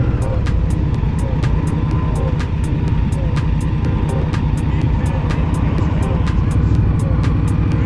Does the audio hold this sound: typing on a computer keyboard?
no